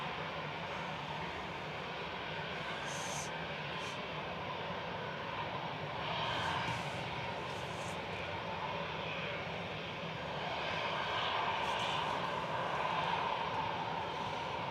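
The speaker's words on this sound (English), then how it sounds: "GEZUW just touching down from Athens here with flight 2060" Airbus A320 Classic touching down at Manchester Airport on arrival from Athens, a fairly faint, distant jet rumble that swells slightly in the middle and near the end, steady and without voices.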